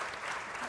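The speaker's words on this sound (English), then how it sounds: "Let's give them a huge round of applause." A conference audience applauds panelists after a session on disruptive technologies, a brief burst of steady clapping heard faint and at a distance.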